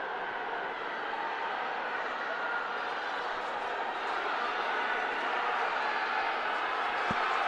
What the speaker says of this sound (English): It's neck and neck, the crowd getting loud